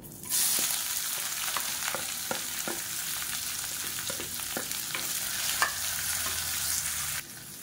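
Sliced large onion and two green chilies fry in a pan of oil for a Tamil varuval side dish, a close, steady sizzle broken by sharp taps and scrapes of a stirring spoon.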